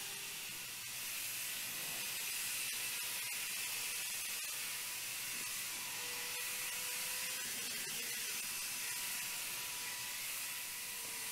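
A Wagner paint sprayer coats a door with a Chemcraft finish, giving a steady, continuous airy hiss that runs unbroken throughout with faint mechanical ticks beneath it.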